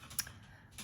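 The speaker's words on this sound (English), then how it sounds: "I got distracted by Sam's typing" A few faint keyboard taps from someone typing nearby, spread out in a brief, quiet moment with no talking.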